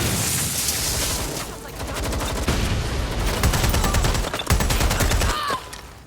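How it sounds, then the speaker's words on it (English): Rapid automatic gunfire in Watch Dogs: Legion rattles loudly throughout, with dense repeated shots and a few heavier cracks in a close, chaotic firefight. "Was that a gun?"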